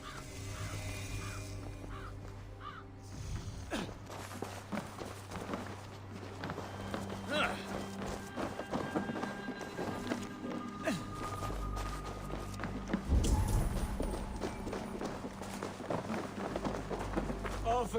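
A horse gallops across the countryside in Assassin's Creed Valhalla, its steady rhythmic hoofbeats running close and continuous for the whole stretch, layered over game ambience with bird caws and brief voices.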